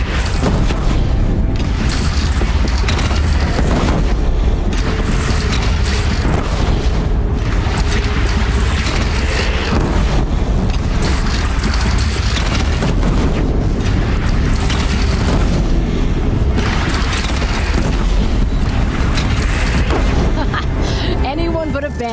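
Cannon fire and explosions in Horizon Zero Dawn during a fight with a bandit clan, with heavy booming blasts recurring over a loud, constant battle rumble and voices shouting throughout.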